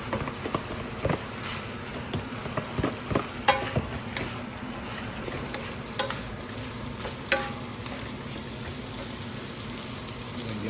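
Beans and carrots fry in a pan for pansit bihon, a steady loud sizzle broken by repeated scraping and stirring clatters of a utensil, with no talking.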